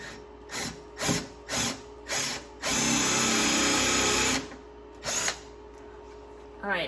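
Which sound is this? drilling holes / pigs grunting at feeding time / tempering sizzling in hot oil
drilling holes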